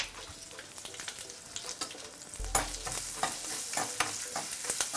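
Urad dal and chana dal with turmeric frying in hot oil for a raw banana and mango curry, a steady crackling sizzle with scraping stirs, growing louder and denser in the second half.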